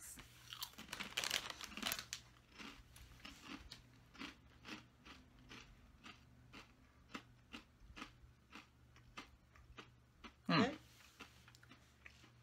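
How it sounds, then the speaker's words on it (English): Crunchy barbecue potato chips from Trader Joe's are chewed close up, giving a run of regular crisp crunches with a louder burst near the end. "Chew the mouth close. Almost just like the barbecue. Like barbecue potato chips."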